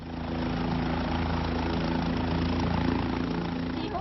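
A helicopter arrives at Makko Majra village in Karnal for a wedding, its rotor and engine making a loud, steady, continuous roar throughout.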